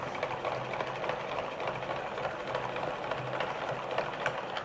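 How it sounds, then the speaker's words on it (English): A ball winder spins yarn from a skein with a steady whirring mechanical hum and faint rhythmic ticking, continuous and close, with no voices. "I'm going to use the ball winder to start winding this yarn"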